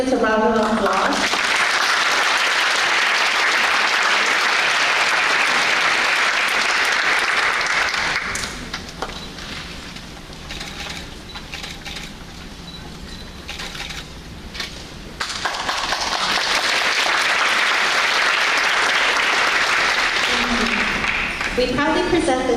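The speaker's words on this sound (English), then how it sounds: "Please give all these students a round of applause." Audience at a scholarship award ceremony for students gives a long, loud round of applause that dips to a quieter stretch with some talk in the middle, then swells again into full clapping.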